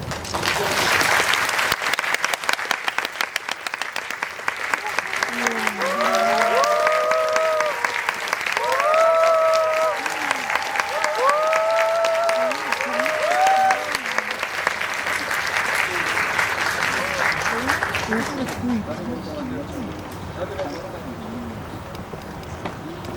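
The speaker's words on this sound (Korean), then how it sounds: "큰 박수로 맞아주시면 시작하도록 하겠습니다" A cinema audience at the Megabox COEX gives a long, dense round of applause, welcoming the director and cast of a film. Voices call out over it partway through, and the clapping thins toward the end.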